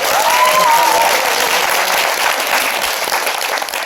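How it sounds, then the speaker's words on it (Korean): Audience applause fills the KBS Suwon Art Hall after a Daehangno stage play of "Unbballo Romance" at its curtain call, a dense steady clapping that stays loud throughout and eases slightly toward the end. "이대리님께 한번 큰 박수 부탁드립니다"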